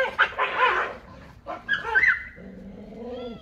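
A young stray dog and another dog near food bowls, with several sharp barks and yips up close at the start, then whimpering and whining tones toward the end.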